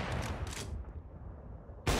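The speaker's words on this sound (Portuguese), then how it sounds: "troca de tiros ali, um eliminado de cada lado nessa região" Rapid gunfire during a professional Counter-Strike match on the Nuke map, a dense burst of shots up close that cuts off abruptly, followed by a brief loud crack at the very end.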